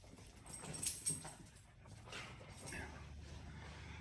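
A corgi puppy whimpers and whines for attention, close and moderately loud, with a dog's soft yips and breathing over low rumbling background noise.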